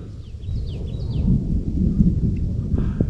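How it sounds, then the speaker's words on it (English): Thunder rumbling over a flash-flooding Colorado River, a low continuous roll with rain hiss and a few bird chirps, moderately loud and without talk. "That's like a lot of thunder."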